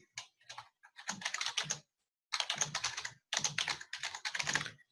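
Fast typing on a computer keyboard, close and clear, in three bursts of rapid clicking separated by short pauses, with no voices.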